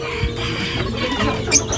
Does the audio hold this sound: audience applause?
no